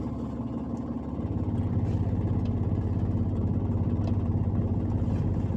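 A car in first gear moves off as the clutch is let out slowly during a driving lesson. The engine hum rises a little, then holds at a steady mid-pitched drone.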